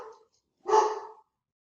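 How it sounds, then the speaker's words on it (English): Dogs bark indoors, one short yip followed by a louder, fuller bark, each brief and separated by silence. "got interrupted by the barking dogs"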